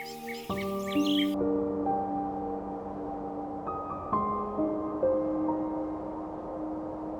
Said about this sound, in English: the bog's silence is broken only by birdsong and the soft whisper of the wind